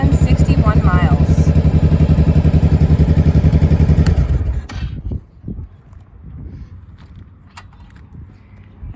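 A 2005 Honda Shadow Spirit motorcycle, already warm, idling with a steady rapid low thump for several seconds before the engine shuts off, leaving faint clatter and room noise; close and loud.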